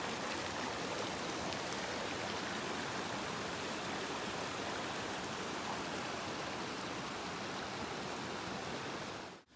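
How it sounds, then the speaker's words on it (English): Mountain stream flowing beside a backcountry campsite in Kananaskis, a steady, even rush of water that stays constant and fairly faint throughout before cutting off at the end. "So I get to listen to the sound of water all night."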